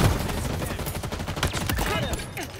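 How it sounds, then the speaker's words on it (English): Grenades go off in rapid succession in the Halo Infinite multiplayer game, a dense, loud barrage of overlapping blasts and gunfire cracks with no pause. "if we grab these and then just chuck a ton of grenades, we can get some kills"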